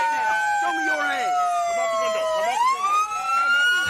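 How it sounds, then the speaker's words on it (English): A loud police siren wails close by, its pitch sliding down and sweeping back up, with engine rumble and faint voices underneath. "I forgot how loud the sirens were."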